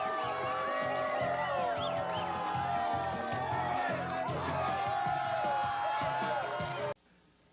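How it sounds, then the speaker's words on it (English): A wrestling arena crowd cheering and whooping in a sustained standing ovation, loud, continuous and dense with mixed shouts, cutting off abruptly near the end. "They're even giving our crew a standing ovation over here."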